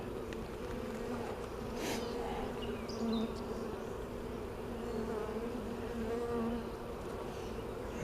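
Honeybees buzz around an open hive during an inspection, forming a continuous close hum with individual insects droning past at slightly varying pitches, with no voices heard.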